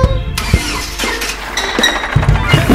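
A car engine cranks and turns over as a sound effect in a French children's scout song, mid-loud with music and bumps around it.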